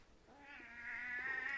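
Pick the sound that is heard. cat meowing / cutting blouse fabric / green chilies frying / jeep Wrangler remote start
cat meowing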